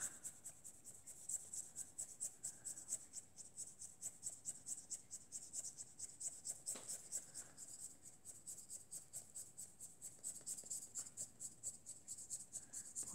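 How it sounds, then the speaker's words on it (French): A paintbrush swirling and rubbing through water to blend paint colours together, a steady soft scratchy brushing with rhythmic strokes, close and quiet, heard on its own. "je vais mélanger, bien sûr, toutes mes couleurs"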